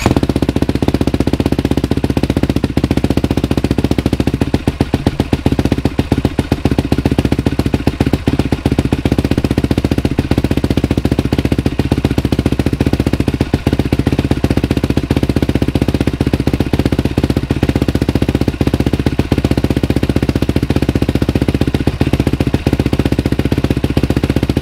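Motorcycle fitted with a new HMF aftermarket exhaust idles loud and close after startup, a continuous rumbling drone with a slightly uneven, lumpy pulse and no talking over it.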